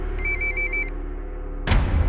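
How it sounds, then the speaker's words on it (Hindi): A telephone rings in an office setting, one clear electronic ring in a short repeating burst pattern, followed by a thump or handling noise as the call is picked up; low room noise underneath. "फोन उठाओ।"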